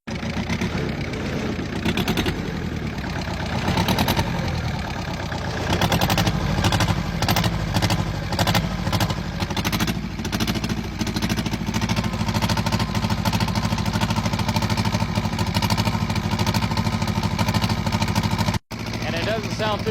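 A British Army generator engine runs steadily under throttle, a loud, continuous rumble with a dense broadband roar that holds throughout with a brief dropout near the end.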